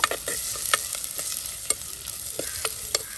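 Onion with curry leaves fries in a pan for a pomfret green masala curry, a constant close sizzle broken by quick repeated stirring scrapes.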